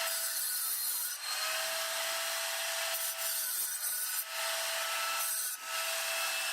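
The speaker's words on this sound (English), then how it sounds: "I'm just going to quickly cut off the excess granite" A tile saw cutting excess granite, a continuous high grinding whine of blade on stone with brief dips every second or so as the cut eases, close and steady.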